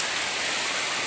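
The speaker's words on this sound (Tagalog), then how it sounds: "Alakas ng ulan dito eh." Heavy rain pours down in a dense, steady hiss, loud and continuous with no voices.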